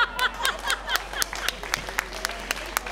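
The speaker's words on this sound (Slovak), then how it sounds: "Táto Elenka, potlesk pre ňu." An audience at a Slovak summer festival claps in scattered, uneven bursts, fairly close and moderately loud, with faint voices mixed in.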